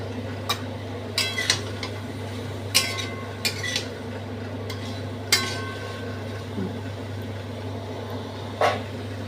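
Ginger being stirred into a white cauliflower curry in a pan: scattered light clinks and scrapes of a spoon against the pan over a steady low hum, with short quiet gaps between strokes.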